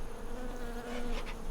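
Honeybees buzz around a honeycomb hive, a steady droning hum from many insects, close and continuous, swelling slightly toward the end.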